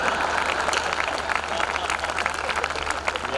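Audience applause at a kavi sammelan poetry gathering in Surat for a bank's silver jubilee, a dense steady wash of clapping from a large crowd filling the whole stretch without pause.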